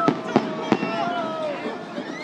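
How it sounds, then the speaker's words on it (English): Fireworks bursting outdoors at a New Year's celebration, three sharp booms in quick succession followed by crackling and fizzing, with a person's voice talking over the display. "long as none of those fireworks land on me"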